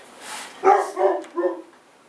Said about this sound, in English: Dog really wants to come in, doesn't he?